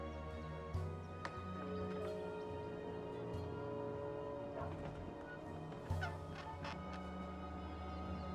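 Bird squawking in the video game Dreamfall Chapters, heard as honking, gobbling calls over a steady low hum, with a few sharper bursts scattered through.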